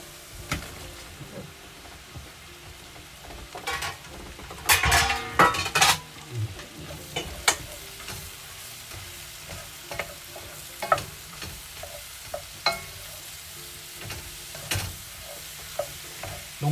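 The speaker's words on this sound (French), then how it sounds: "je vais mettre les champignons" Mushrooms frying in fat in a pan, a low steady sizzle with frequent clinks and scrapes of a utensil stirring them, including a brief louder burst of clatter, close and without talk.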